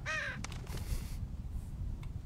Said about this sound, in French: Bonjour Corbeau.